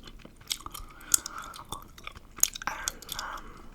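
Gum chewed with an open mouth close to the mic, wet smacks and clicks coming in an irregular rhythm, quiet and intimate with no talking.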